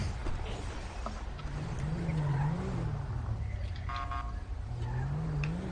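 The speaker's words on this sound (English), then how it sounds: "I hear the tow truck too" A tow truck drives past on a road in Sandy, its engine a steady, moderately distant rumble with a wavering tone that rises and falls as it goes by.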